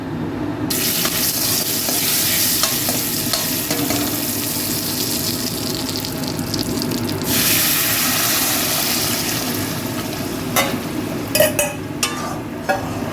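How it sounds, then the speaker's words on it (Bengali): Dal being sautéed in a pan after a cumin and dry red chilli tempering, a steady broadband sizzle with stirring and scraping running throughout, with a few sharper clinks near the end. "একটু জিরে শুকনো লঙ্কা ফোড়ন দিয়েছি, দিয়ে আর এই ডালটা সাঁতলে দিই।"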